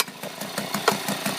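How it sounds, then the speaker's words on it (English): A Tohatsu 3.5hp outboard boat engine, once left for dead, running at a shipyard with a steady rapid chugging idle pulse, close and fairly loud, with a light rattle and no talk. "So we got the boat engine running."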